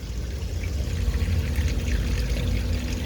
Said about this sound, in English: That's the pump, the pressure pump.